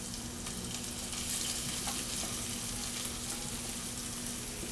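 Vegetables hitting hot oil in a cooking pot for stuffed peppers, giving a steady, loud, continuous sizzle and frying hiss that runs unbroken throughout, with no talking.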